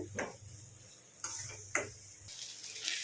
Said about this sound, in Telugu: ఒక 2 నిమిషాలు వేగనిద్దాము బ్రెయిన్ని నూనెలో అయితే